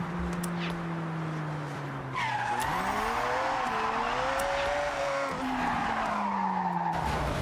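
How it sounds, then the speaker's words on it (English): Engine of a car driven in Forza Horizon 6, a smooth revving tone that climbs and falls with steady tire squeal through the turns, loud and close, with no one talking. "Let me just drive this car around a little bit."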